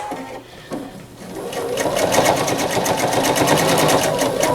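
A PFAFF Quilt Expression 4.0 sewing machine starts up after a moment of quiet and then stitches steadily at speed with a loud, close, rapid mechanical whir.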